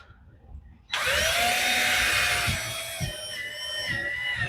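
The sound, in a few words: power drill drilling into wood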